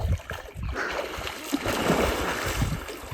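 Someone bathing in cold water in a pond or river, broad continuous splashing and churning water close by, fairly steady with a few stronger surges.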